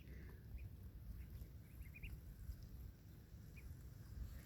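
Baby ducklings and their mother duck give faint, scattered high peeps over a quiet, steady background rumble, with the chirps clustered near the middle of the clip.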